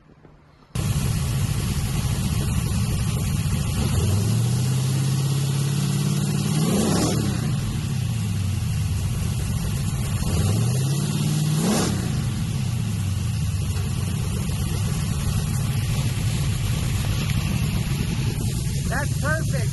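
A nitrous-equipped Chevrolet C10 truck engine runs loud and steady, climbing through two rising revs that peak and drop back to a rough, heavy idle, close by and continuous.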